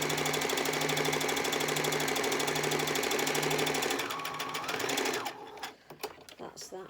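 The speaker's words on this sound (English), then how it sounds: "I've got it on straight stitch and just sew straight down to the bottom" A sewing machine runs a straight stitch down the corner of a fabric bag, humming in a loud steady rapid whir for about five seconds before slowing and stopping, followed by a few clicks and handling sounds.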